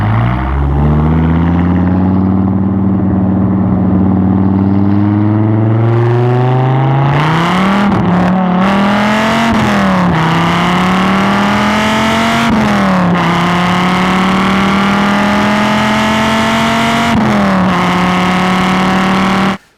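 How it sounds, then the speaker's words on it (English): A 1990s Dodge Viper GTS V10 revs hard through its center-exit exhaust, a loud, close engine climbing in pitch with repeated blips and surges, sustained throughout with no talking. "When you do the GTS and you got the exhaust coming out the center and the back."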